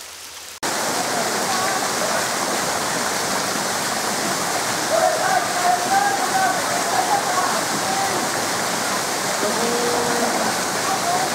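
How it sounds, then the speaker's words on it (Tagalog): River water at Balete Falls in the Philippines, a constant loud rushing roar of flowing spring-fed water that starts abruptly and holds steady without pause. "Free flow yung tubig niya, river siya, galing sa bukal yung tubig."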